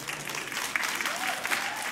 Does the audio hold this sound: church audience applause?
yes